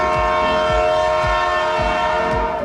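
A blue train passing on a railway track, with a loud sustained horn tone over a steady, rhythmic clickety-clack of wheels on rail joints, close and continuous.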